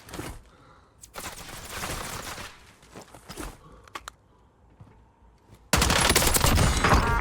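Gunfire in a Warzone video game, several sharp bursts and scattered shots around quieter footsteps and movement, ending in a loud sustained volley of fire.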